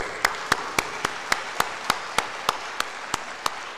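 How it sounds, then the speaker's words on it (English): A crowd at a masjid fundraiser claps in a steady rhythm, sharp unison claps about four per second over a continuous wash of crowd noise. "Another round of applause."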